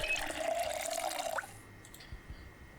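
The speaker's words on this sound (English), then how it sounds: "Let's fill our water bottle." Water from a faucet filling a bottle in the video game Project Zomboid, a soft running trickle with a rising fill tone that stops after about a second and a half, leaving faint drips.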